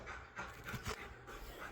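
Close, soft panting from a dog, a run of rapid rhythmic breaths with a slightly uneven pace, quiet and without voices.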